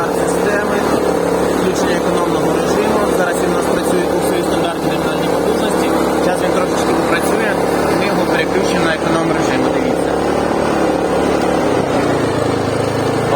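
A Daewoo DAIG3000S inverter generator runs with a loud, steady engine drone that fills the whole stretch, while someone talks over it throughout.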